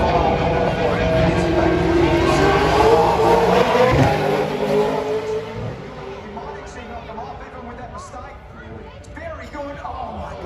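Supercars race car engine on track at the Newcastle 500, a loud roar rising and then fading as the car heads toward the final corner, with commentary talking over it.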